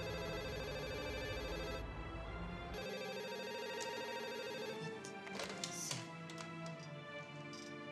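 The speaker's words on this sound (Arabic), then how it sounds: "اهو التليفون بيرن" A telephone rings steadily in a room amid loud, dense background music and drama scoring, the ringing tones sustained and fairly faint beneath the mix, without speech.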